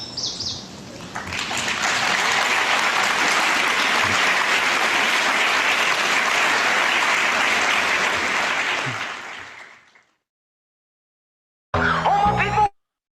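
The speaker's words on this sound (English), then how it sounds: "as we heard the applause for Mary Oliver to remember that that was part of the recording" Recorded applause following a Mary Oliver poem, played during a graduation worship service, swells to a sustained crowd clapping, then cuts off abruptly into silence before a brief burst of another sound.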